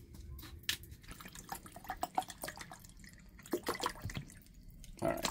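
Water from a full 500 ml bottle goes into a pot on an RV camping stove, with uneven splashing and dripping over steady low background noise.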